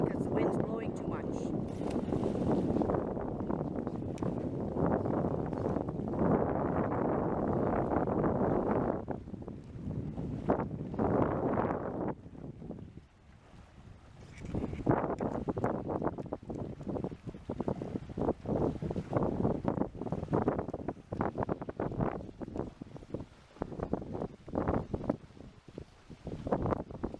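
Wind blowing at a dock on Kashishibog Lake, Ontario, roaring steadily into the microphone for the first stretch and then gusting more unevenly while people talk over it.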